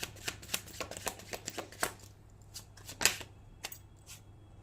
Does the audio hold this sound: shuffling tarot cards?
yes